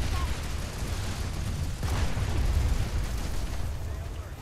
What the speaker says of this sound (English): Got a lot of fire coming from that base.